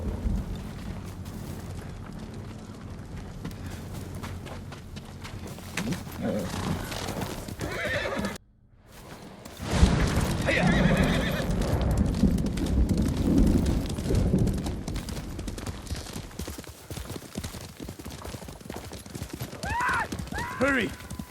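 Horses gallop with steady clip-clop hoofbeats and occasional whinnies in Ghost of Tsushima, loud and close, interrupted by a brief silence mid-ride, with spoken dialogue over the riding.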